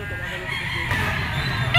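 A yellow-legged sweater-breed gamefowl rooster crows close by, one drawn-out call over a steady murmur of background noise.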